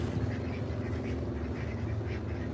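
Ducks quack repeatedly and close by in an indoor pen alongside rabbits, a steady run of nasal calls with no talking over them.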